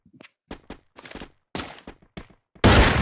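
Gunfire in a shooter video game: a few short scattered bursts of shots, then a loud sustained blast of fire near the end, close and sharp with no talk.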